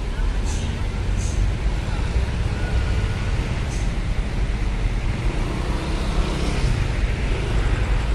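Trucks and other vehicles queued at the Bakauheni ferry port at night, a continuous low rumble of idling engines and traffic noise with a few brief higher hisses, steady and fairly close.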